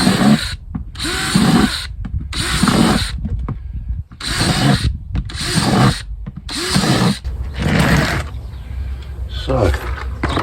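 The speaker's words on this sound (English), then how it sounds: "I'm going to drill some holes in the bottom and pot these on" A power drill bores holes in the bottoms of plastic builder's buckets: about six loud, close bursts of whirring and grinding, separated by brief pauses, with some speech between them.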